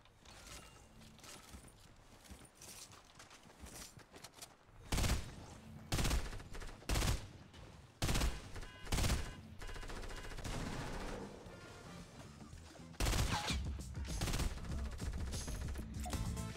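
Rapid bursts of gunfire from shooting in a Playground video game, loud and dense, with clusters of sharp shots and sustained automatic fire alone without talk.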